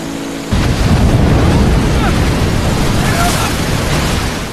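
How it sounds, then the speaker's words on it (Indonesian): Steady heavy rain in a film scene set in a jungle, a dense loud wash of noise that starts abruptly and continues unbroken, with no talking. "Ketika hujan turun"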